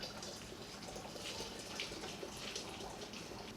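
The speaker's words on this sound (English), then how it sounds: "And then top it off with boiling water." Boiling water pours steadily into a jug, a soft continuous splashing and trickling at close range with no talking.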